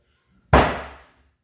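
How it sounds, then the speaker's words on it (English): A thrown axe slams into a wooden target with a single loud, heavy thunk after near silence, decaying quickly into a short resonant tail. "I slammed the axe in the target a minute ago"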